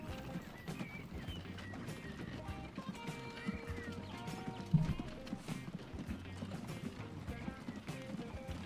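Horse hooves clip-clopping in the video game Transport Fever 2, a quiet, irregular stream of hoof taps mixed with faint game ambience and background music.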